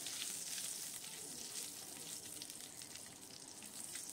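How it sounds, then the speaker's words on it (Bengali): Black cumin seeds and slit green chillies tempering in about two spoons of hot mustard oil, a dense, steady sizzle with crackling spits running the whole time, close and fairly loud, no voices. "সর্ষের তেল দিলাম 2 চামচ মতো, আর কালো জিরে ফোড়ন দিলাম, আর 2টো কাঁচা লঙ্কা চিড়ে এর ভেতরে দিয়ে দিলাম।"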